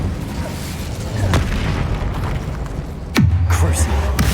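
Incendio fire spell cast in Hogwarts Legacy, heard as deep booming bursts with a whooshing flare, two strong impacts over steady game background noise.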